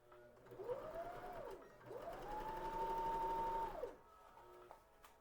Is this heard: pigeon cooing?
no